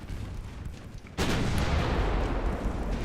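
A naval artillery shell strikes home in the warship game Ultimate Admiral Dreadnoughts, bursting in with a sudden loud impact partway through and leaving a sustained roaring rumble that carries on to the end.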